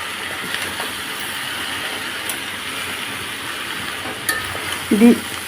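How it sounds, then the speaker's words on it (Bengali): Beaten egg stirred into snake gourd frying in a pan, a steady low sizzle with light scraping, ending in a couple of louder knocks near the close. "ডিমটা দিয়ে আমি ভালোভাবে নেড়ে দিচ্ছি।"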